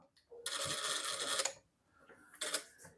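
Sewing machine stitching a simple fabric shoe bag: a dense, loud burst of running stitches for about a second, a pause, then a second short run.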